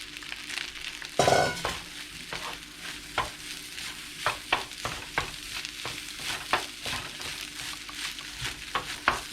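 Rice being stirred in a hot frying pan for corn fried rice, with a steady sizzle and frying hiss under repeated scraping and stirring strokes, plus a louder burst as more rice goes in near the start; no talking.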